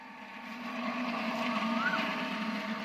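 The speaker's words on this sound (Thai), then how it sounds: "อันนี้ปั๊มอัตโนมัติตัวนี้" An automatic water pump runs with a steady droning motor hum and whir, close and fairly loud, rising slightly and then holding constant.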